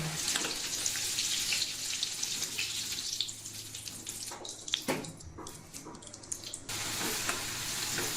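Potatoes frying in oil, a dense continuous hiss and sizzle with scattered crackles and a few clinks of a utensil, close and steady throughout, no speech.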